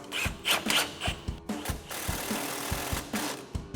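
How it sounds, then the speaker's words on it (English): An impact wrench with a 15mm socket tightens a strut top nut on a 2007-2018 Silverado 1500 during a 3-inch front lift install, giving loud repeated rapid hammering bursts with short pauses between them. "we're gonna grab our impact 15mm socket and a 15mm wrench to hold the nut."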